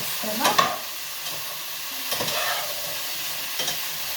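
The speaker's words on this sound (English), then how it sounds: "I'm going to stir the veggies, mix them up." Vegetables with bell peppers being stirred in a sizzling pan for Indian aloo gobi, with a few scraping strokes of the spoon over a steady frying hiss, close and alone.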